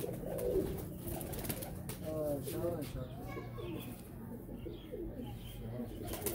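Golden pigeons coo in soft, repeated rounded calls close by, under background murmur and some speech-like chatter throughout.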